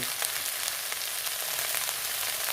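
Garlic chives stir-fry in a hot pan with a steady, bright sizzle and crackle that stays close and constant, with no voices.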